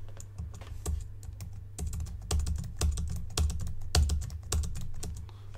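Fingers type steadily on a computer keyboard while text is entered into a WordPress post, a quick irregular patter of close, crisp key clicks with no talking.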